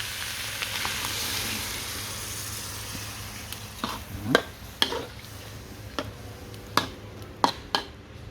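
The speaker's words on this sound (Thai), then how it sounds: "เนื้อปลาไหลเริ่มสุกน้ำเริ่ม แห้งครับพี่น้อง" Eel stir-frying in a pan with spicy paste sizzles steadily, while sharp clanks and scrapes of a utensil against the pan punctuate the second half.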